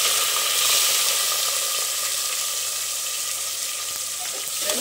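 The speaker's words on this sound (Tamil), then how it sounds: "பாருங்க, கடுகு நல்லா பொரிஞ்சு வருது" Mustard seeds splutter in hot oil with a continuous bright sizzle and hiss, close and steady for the whole stretch, with no voices.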